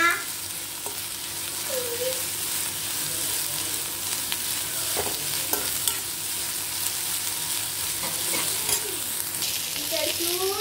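Onions frying in a pan for a chicken burger, a constant close sizzle with repeated spatula stirs and scrapes throughout.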